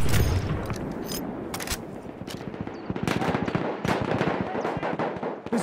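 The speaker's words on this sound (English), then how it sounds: "There's an enemy machine gun." Rapid machine-gun bursts in Battlefield 1 gameplay, with dense overlapping gunfire and sharp cracks rattling close and loud throughout, a few heavier booms among them.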